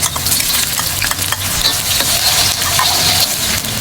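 Garlic and onion sauté in oil in a pan, a close, loud sizzle with frequent stirring scrapes and clatter running throughout.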